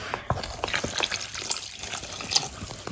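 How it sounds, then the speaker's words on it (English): A cup of water is poured into a sand and cement mix for concrete, giving soft splashing and trickling with a few small drips, fairly quiet and close. "So I'm going to add my first cup of water."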